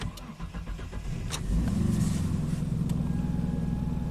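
The engine of a Mitsubishi Montero 4x4 cranks with a rapid rhythmic churning of the starter for about a second and a half, then catches and settles into a steady, slightly rough idle, heard close and alone.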